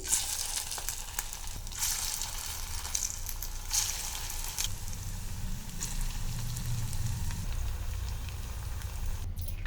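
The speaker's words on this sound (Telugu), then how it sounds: "ఇలా ఒత్తుకున్న దాన్ని ఆయిల్లో వేసుకోవాలి" Poha and potato cutlets fry in oil with a soft, steady sizzle and faint crackle, quiet throughout, with a few sharper bursts at irregular moments.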